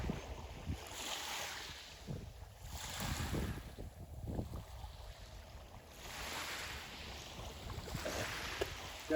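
High sea waves surge and wash in slow swells, with wind buffeting the microphone in a rushing, rumbling roar that rises and falls; no voices.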